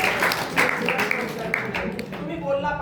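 Audience clapping for a student at a coaching-class farewell sendoff ceremony: a dense, steady patter of many hands throughout the short stretch, fairly close and even in loudness.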